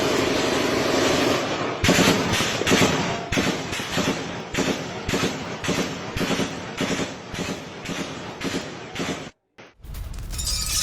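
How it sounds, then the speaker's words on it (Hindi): Rapid bursts of gunfire from army troops firing on street protesters in Pakistan-occupied Kashmir, a dense run of sharp cracking shots repeating for several seconds, loud and close, ending in a brief silence and a final burst. "प्रदर्शनकारियों पर सेना ने फायरिंग शुरू कर दी"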